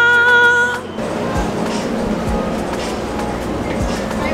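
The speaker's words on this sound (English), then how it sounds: "Here comes the train." A tram train rolls into a station with a low rumble and rhythmic clacks after a brief tonal chime, steady and fairly loud throughout.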